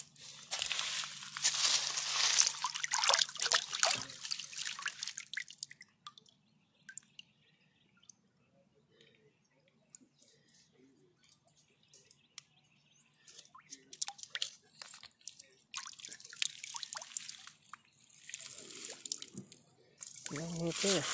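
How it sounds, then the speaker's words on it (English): Horn coral fossil rinsed with water outdoors in southern Ohio, with splashing and dripping water and handling noises in bursts at the start and end, a quieter stretch in between, and someone talking over parts of it. "let me rinse this off real quick"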